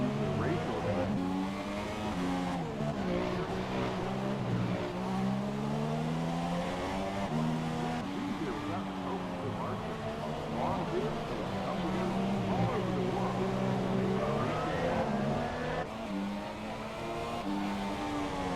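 Race car engine lapping a track in a GRL GP3 race, a continuous droning whine that rises and falls in pitch as it accelerates, with a commentator talking over it throughout.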